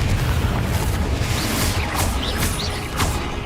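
A Confringo explosive spell blast in the Hogwarts Legacy video game, a loud, continuous rumbling boom with crackling debris and whooshing bursts layered on top.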